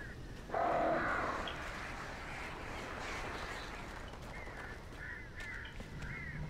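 Crows caw repeatedly in the Alan Wake video game, with several harsh calls late in the stretch set over a steady noisy game ambience. An earlier louder burst of sound comes through near the start.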